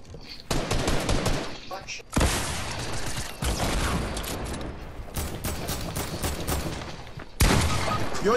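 Shotgun blasts in the Fortnite video game: several loud, close bursts at irregular gaps, each with a rough, long-ringing tail, with brief voices in between.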